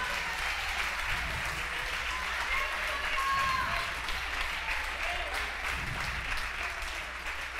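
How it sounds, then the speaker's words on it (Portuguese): A church congregation claps continuously during a Portuguese-language worship service. The applause is steady and sustained, with a faint murmur of voices underneath. "E você está aqui agora aplaudindo o Senhor Jesus,"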